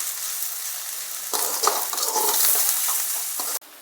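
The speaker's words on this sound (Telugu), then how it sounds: "సిమ్ ఫ్లేమ్లో పెట్టుకొని మంచిగా ఫ్రై చేయాలి" Drumstick leaves with salt and turmeric fry over a low flame, giving a steady close sizzle with bursts of stirring and scraping in the pan before the sound cuts off abruptly.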